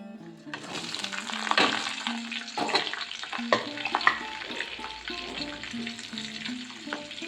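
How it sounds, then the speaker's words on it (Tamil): Onions and dried red chillies frying with dal in a hot pan for coriander rice, a steady loud sizzle with repeated stirring scrapes and clinks, close up and with no talk. "இப்போ வெங்காயத்தை சேர்த்துக்கலாங்க"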